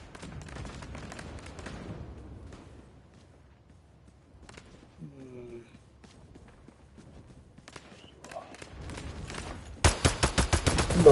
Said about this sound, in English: Do not try to fight the Gatling gun.